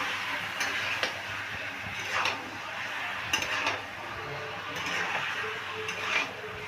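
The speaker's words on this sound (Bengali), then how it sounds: "এইবারে আমি ভালো করে কষিয়ে নিচ্ছি" Chicken curry being sautéed and stirred in a pan over high gas flame, with a steady soft sizzle and irregular scraping strokes of a spoon throughout, moderately quiet and close, without talk.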